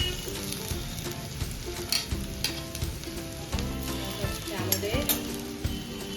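Okra and potatoes fry in a pan with a constant close crackling sizzle, punctuated by repeated spatula scrapes and stirring clatter throughout.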